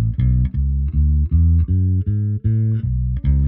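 A bass guitar plays a scale exercise stitched together across octaves, with steady, evenly spaced notes moving up and down. It is loud, close and alone, with no talking.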